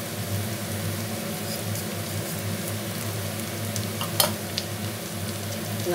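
Steady sizzling of food frying in butter, a continuous hiss with faint stirring scrapes and a couple of brief clinks near the end.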